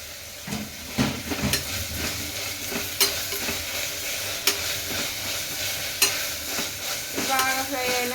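Mint and coriander frying in a pan for drumstick biryani, with a steady sizzle under repeated scraping stirs of a spoon against the pan, close and fairly loud.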